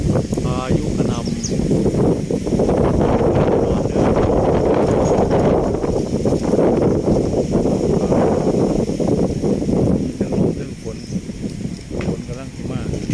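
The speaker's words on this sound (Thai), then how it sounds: "พายุกระหน่ำ" Storm wind in Udon Thani roaring and buffeting the microphone in loud gusts, with rustling trees, continuous throughout and rising and falling in strength.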